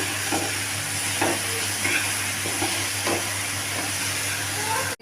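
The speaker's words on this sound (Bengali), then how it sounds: "সর্ষে আর লঙ্কা বাটাটা ছিল সেটাও দিয়ে দেওয়া হবে। একটু কষিয়ে নিচ্ছে।" Mustard and chili paste sizzling as it is sautéed in a pan, a steady frying hiss with occasional soft stirring scrapes, close and continuous.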